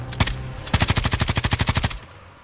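Automatic weapon fire in the video game Call of Duty, a short burst followed by a long rapid stream of loud, evenly spaced shots that stops abruptly.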